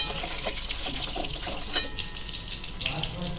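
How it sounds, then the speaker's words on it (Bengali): Bay leaf and whole garam masala crackle in leftover hot oil after eggs are fried for an egg curry, giving a continuous moderate sizzle with a watery, bubbling edge and occasional soft clinks. "ওই তেলের মধ্যেই তেজপাতা আর গোটা গরম মশলা ফোড়ন দিলাম।"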